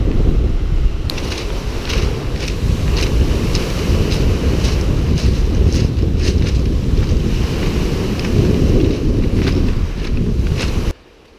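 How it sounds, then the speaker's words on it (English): Waves washing against the rocky Lake Superior shore on a windy morning, a loud continuous roar of surf with rushing wind noise buffeting the microphone throughout, cutting off abruptly at the end. "Some waves this morning."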